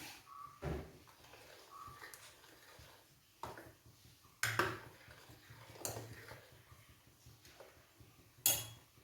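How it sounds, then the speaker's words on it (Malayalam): A metal pan for tempering mustard seeds is picked up and set down in a home kitchen, giving faint, scattered clanks and knocks spread out with quiet gaps between them. "എന്നിട്ട് കടുക് പൊട്ടിക്കാനുള്ള പാത്രം എടുത്തിട്ട് വയ്ക്കാം"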